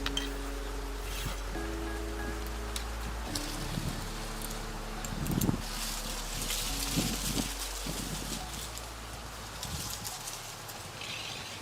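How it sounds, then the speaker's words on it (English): Gusty wind blowing outdoors with leaves rustling around, a steady broadband rush with occasional louder swells and low rumbles, no talking. "I hope you guys can hear me okay through all the wind and the leaves rustling around."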